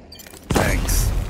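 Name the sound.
lethal grenade explosion in Rogue Company video game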